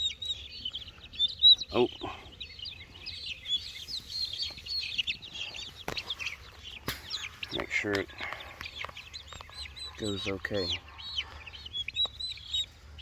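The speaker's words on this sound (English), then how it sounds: "Now I'm going to let this Ayam Cemani chick go out here." A small Ayam Cemani chick peeps in high, rapid chirps near a turkey flock, with a few clucks and brief scuffles, while a person speaks briefly.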